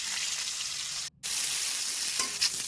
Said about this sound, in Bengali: এবার ফুলকপি আলুগুলোকে ভেজে নিচ্ছি